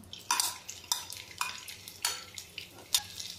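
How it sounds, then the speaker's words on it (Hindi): Cumin, asafoetida and garlic crackling in hot oil in a pan while cooking a dry potato-cauliflower curry, with repeated bursts of sizzle and a few light stirring scrapes, close and fairly quiet. "तेल हमारा गर्म हो गया है, अब इसमें हम जीरा डालेंगे, हींग,"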